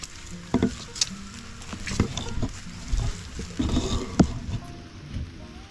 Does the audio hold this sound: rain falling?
yes